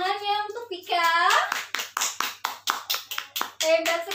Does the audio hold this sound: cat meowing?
no